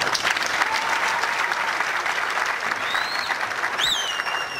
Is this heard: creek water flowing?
no